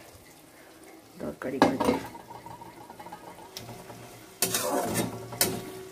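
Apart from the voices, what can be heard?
tomatoes poured into a cooking pot for curry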